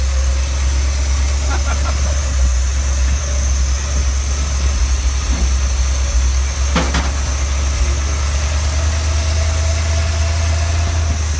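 A loud, rough engine of a 1977 Dodge B200 van drones steadily while driving, with a heavy low rumble throughout, a couple of faint clicks and knocks above it.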